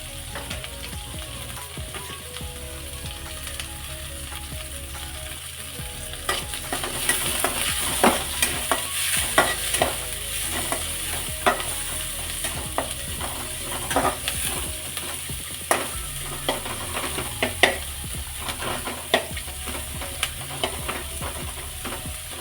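Garlic and onion fry steadily in a pan for a radish stir-fry, a continuous close sizzle broken by repeated scraping stirs, with no voices.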